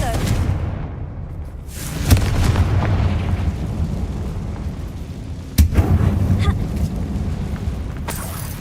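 Confringo fire spell blasts in the Hogwarts Legacy video game, two sharp booming impacts a few seconds apart over a rumbling low background, with a voice speaking the incantation.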